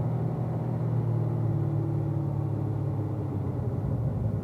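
A car on a race track, a steady low engine rumble holding an even note at moderate distance with no voices.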